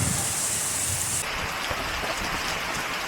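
Heavy rain driven by wind pours down in a dense, steady hiss, loud and close, with no voices.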